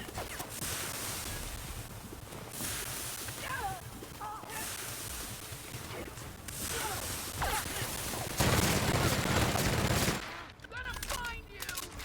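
Gunfire from a weapon in The Outer Worlds video game, bursts of rapid shots with whooshing and clattering reload sounds, interspersed with a louder dense noisy burst late on.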